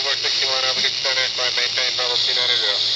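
An air band radio transmission comes through a handheld UV-K5 or Radtel RT-890 receiver as a steady, filtered radio voice over a loud, continuous hiss of static, close and unbroken.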